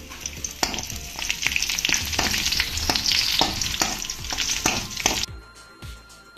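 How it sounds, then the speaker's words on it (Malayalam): Loud, dense frying sizzle of mustard seeds and curry leaves in oil, with regular stirring scrapes against the pan, then the sizzle drops away abruptly, leaving a quieter hiss and a few taps. "കടുകൊക്കെ പൊട്ടി വന്നിട്ടുണ്ട് നമുക്ക് കറിവേപ്പിലോട് ചേർത്ത് കൊടുക്കാം"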